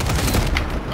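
A Kar98k bolt-action rifle fired in a video game, one loud booming crack that fills the brief moment with dense, echoing blast noise.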